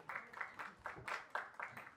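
Faint, distant applause from an audience at a film audio launch event as a woman is welcomed on stage, a short scattered patter of claps.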